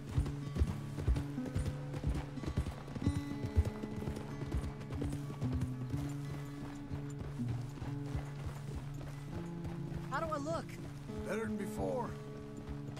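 Rhythmic clip-clop of horse hooves in the video game Red Dead Redemption 2 plods steadily at a walking pace, with voices talking over it and a brief whinny-like sound near the end.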